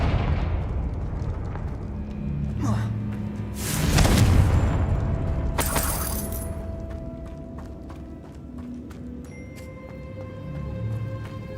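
Confringo blasting spells go off in Hogwarts Legacy, a heavy boom swelling around the middle with broad crackling bursts, amid rumbling game ambience and scattered magical effects.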